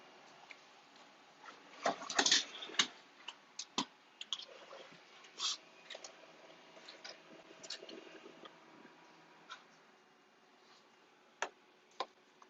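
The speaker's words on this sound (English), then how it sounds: "what you hear is it spooling the toner around the cylinder inside" An iColor 55 toner printer runs a print job, giving off irregular ticks and clicks of varying loudness with small mechanical whirs between them in a quiet room, and no one speaking.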